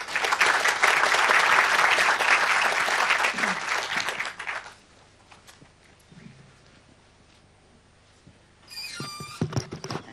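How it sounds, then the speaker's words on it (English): An audience at a Lean IT Summit keynote in Paris applauds for speaker Steve Bell with loud sustained clapping that fades after about four seconds, followed by quiet shuffling, then brief renewed clapping near the end. "please, a round of applause for Steve Bell"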